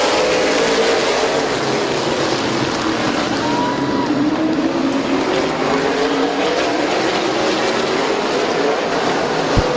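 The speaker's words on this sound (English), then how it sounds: "Tom Stankiewicz spun the tires on the start" Late model race cars at Midvale Speedway restart on the green flag, a loud, close roar of engines with rising and falling pitch sweeps as cars pass, continuous throughout.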